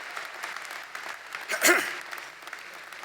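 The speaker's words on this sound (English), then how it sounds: "How about a nice round of applause for our great governor?" An audience claps steadily at a 2016 undergraduate commencement ceremony, honoring the governor. The applause is moderately distant and fairly soft, and it briefly swells louder partway through.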